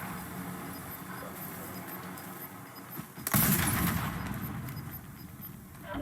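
Rapid gunfire bursts from a battle royale video game, a sudden loud volley erupting midway over a busy background of game noise and continuing in rattling clusters.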